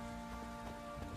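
Steady rainfall in The Witcher 3: Wild Hunt, a soft, faint hiss of falling rain under a low, steady tonal hum.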